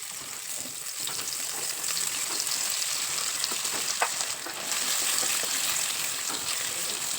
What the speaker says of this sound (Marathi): तेलावर व्यवस्थित असे सगळे पनीरचे तुकडे घालून घ्यायचे आणि परतून परतून असे भाजून घ्यायचे आहेत